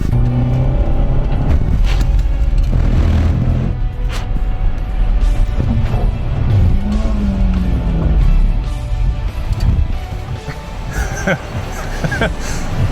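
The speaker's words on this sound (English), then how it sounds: "Here we are in the Honda Civic, another front-wheel drive car." Honda Civic front-wheel-drive hatchback driven hard around Rockingham track, engine rumbling and revving up and down under nearly continuous talking inside the car.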